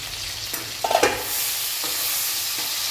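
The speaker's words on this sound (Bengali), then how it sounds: "এইবার মাছটা তো ভাজা হচ্ছে" Fish frying in hot oil in a pan for a Bengali ar fish curry, a steady high sizzle with a few sharper spatters and utensil scrapes near the start, close and continuous with no talking.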